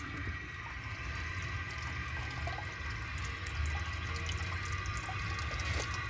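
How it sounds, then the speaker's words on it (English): Water poured into the bowl of a 1960 Standard Cadet toilet makes a steady, fairly quiet splashing and trickling, continuous throughout with no voices. "I'm going to add a little more water to the bowl."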